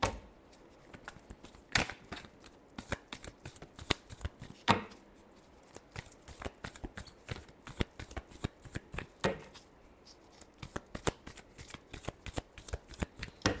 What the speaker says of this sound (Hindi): चलिए शफल करते हैं